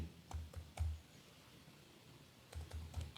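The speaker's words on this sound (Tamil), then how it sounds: "அப்படின்னு நான் டைப் பண்ணுறேன்" Quiet typing on a computer keyboard, with short bursts of key clicks at the start and again near the end and a near-silent pause between.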